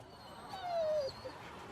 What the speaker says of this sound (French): Je promène mon chien.